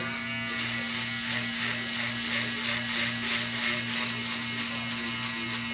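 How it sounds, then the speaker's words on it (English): Electric shaver buzzing steadily during a skin fade haircut, a close, constant electric hum with a faint pulsing undertone and no talking. "5-star electric shaver."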